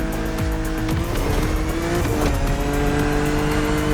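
A BMW Z4 E89 driving in the racing video game The Crew Motorfest, its engine droning loudly and steadily with shifting revs, tire squeal, and a continuous roar throughout, with no talking.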